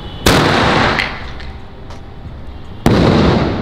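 A Red Casco aerial firework rocket launched from a stand: two sharp, loud bursts about two and a half seconds apart, each followed by a fading whoosh and crackle outdoors.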